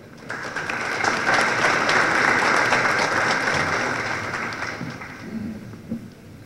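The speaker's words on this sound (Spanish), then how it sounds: "Aplauso, por favor." An audience at a formal anticorruption judicial ceremony applauds to welcome a speaker, with sustained, fairly loud clapping that fades toward the end.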